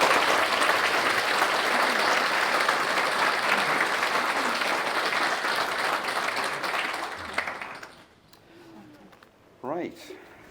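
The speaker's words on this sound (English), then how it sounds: "I think at that point they do deserve a very, very loud round of applause." Wedding guests give a loud, sustained round of applause that fills the room for about eight seconds, then fades out, and a voice speaks briefly afterward.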